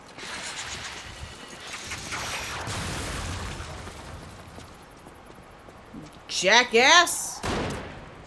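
Bursts of gunfire crackle at the player in the video game Self Delusion, a few rapid shots near the end amid mechanical clatter, with someone talking over it.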